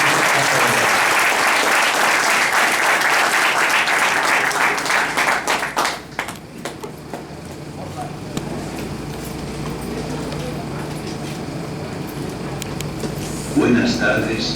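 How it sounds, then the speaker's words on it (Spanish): An audience at an academic talk gives the introduced engineer a loud round of applause, dense and close for several seconds before tapering into quieter scattered claps and room noise, with a brief louder burst near the end. "dénosle un fuerte aplauso al ingeniero."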